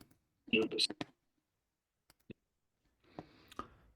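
A few sharp computer mouse clicks sound up close in a quiet room, scattered single taps between bursts of someone talking in Polish.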